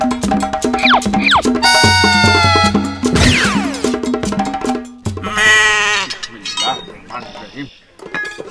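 A goat kept for Eid sacrifice bleats loudly several times, its wavering cries close by and mixed with voices and a few light clinks.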